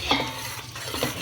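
A spoon stirs simmering rajma gravy in a pot with soft scraping swirls over a faint sizzle, brief and close.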